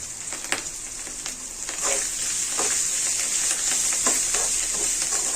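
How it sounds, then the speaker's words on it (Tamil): Steady oil sizzling with a bright hiss, broken by occasional scraping stirs as onions and betel leaves sauté in a pan. "கொஞ்சம் நல்லா ஒரு ரெண்டு நிமிஷம் நல்லா எண்ணெயில் வதக்கிக்கலாம்"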